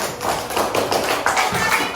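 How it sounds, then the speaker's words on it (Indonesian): Elementary school pupils in a sixth-grade classroom clap for a classmate, a short, loud, close burst of rapid uneven claps and thumps lasting a couple of seconds. "Oke, tepuk tangan buat Rizky"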